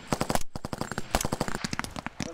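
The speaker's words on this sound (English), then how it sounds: "Rapid fire!" Rapid automatic rifle fire at a military shooting range, a fast string of sharp close shots with brief gaps between bursts.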